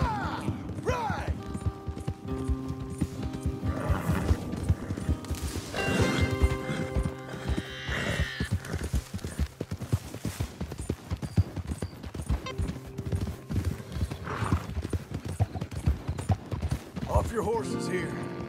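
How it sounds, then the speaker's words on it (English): Horse hooves clip-clop in a steady, rapid rhythm throughout a video game scene, loud and close, with occasional whinnies and clatter underneath people talking. "Your horse is here."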